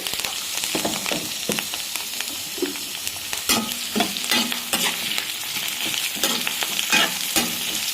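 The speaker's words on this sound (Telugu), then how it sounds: "తర్వాత కరివేపాకు ఎలా మొగుతున్నాయి చూడండి" Curry leaves and onions frying in hot oil with a steady bright sizzle, broken by repeated scraping stirs and occasional pops, close and alone without talk.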